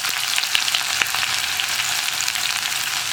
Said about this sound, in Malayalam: കടുക് ഒന്ന് പൊട്ടി തുടങ്ങട്ടെ